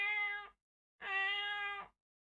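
A person does a convincing imitation of a cat meowing: two drawn-out, tonal meows separated by a short pause, close and clear with no other sounds around them.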